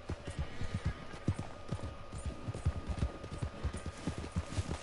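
Steady clip-clop of horse hooves trotting on a hard surface in Red Dead Redemption 2, close and rhythmic, continuing throughout with faint background noise.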